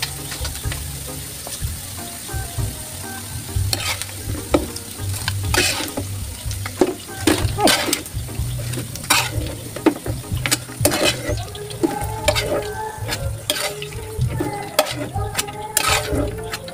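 Chicken gizzards and liver sizzle and spit in a hot pan for sisig, with repeated sharp splatter pops and stirring scrapes over a steady frying hiss, close and fairly loud, no talking.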